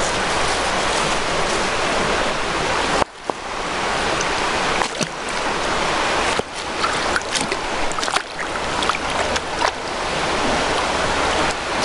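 Steady broadband rush of river water flowing, close and continuous, with a few brief knocks and dips in level, and no talking.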